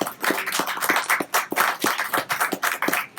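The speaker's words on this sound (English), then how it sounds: "Another round of applause for Kim Shuck" Audience applause at a literary reading event, a dense burst of many hands clapping continuously and fairly close, without voices.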